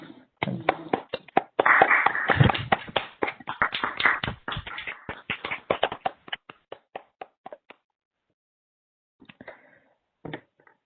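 Scattered claps from an online audience unmuting after a plasma acceleration science talk, a dense burst of overlapping hand claps for several seconds that thins into sparse single claps, then a few faint late claps near the end.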